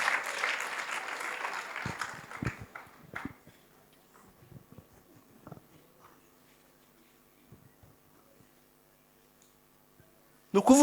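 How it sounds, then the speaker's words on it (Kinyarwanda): Audience applause at a couple's celebration, clapping that fades out over the first few seconds, followed by quiet with scattered small noises and a sudden loud burst at the very end. "Niba mubyumva cyane muhereze Imana amashyi menshi cyane."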